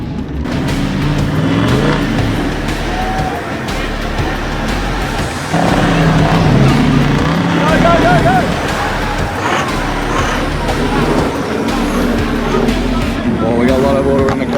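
A four-wheel-drive car on a Cape York track revs and churns through a water crossing, a loud continuous engine roar with splashing, while people shout and talk over it.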